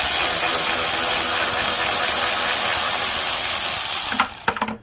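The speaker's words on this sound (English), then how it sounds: "let me get my impact right there and over there" Impact wrench removing 10 mm bolts from a 2009 Shelby GT500, a loud sustained mechanical whir and hiss that breaks off near the end into a few sharp rattling bursts.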